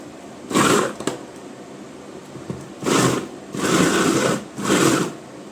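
Electric chopper mincing ingredients in a home kitchen, running in four separate bursts of steady whirring, loud and close, with short pauses between pulses.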